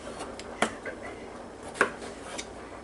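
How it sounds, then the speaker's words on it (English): A knife cuts tomatoes into thick pieces on a board, two distinct crisp chops about a second apart with fainter taps between, fairly quiet against a soft background hum. "And cut them in sort of thick pieces."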